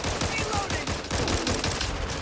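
Rapid gunfire in the zombie shooter game Back 4 Blood, dense overlapping shots in a loud sustained barrage, with players talking over it.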